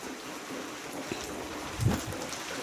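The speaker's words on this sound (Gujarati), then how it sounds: "આજ આવ્યો છે વરસાદ" Steady rain falls in a village on a rainy day, a continuous even hiss with no break and a soft, dull thump near the end.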